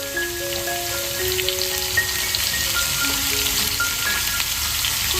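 Beetroot and carrot frying with salt in a pan make a close, continuous crackling sizzle like rain on a surface, with soft steady melodic tones underneath throughout.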